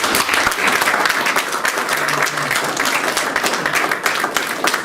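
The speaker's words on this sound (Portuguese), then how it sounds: "merece uma grande salva de palmas de respeito" A seated audience at a talk-show discussion breaks into sustained, dense applause, loud and continuous for several seconds with many hands clapping at once.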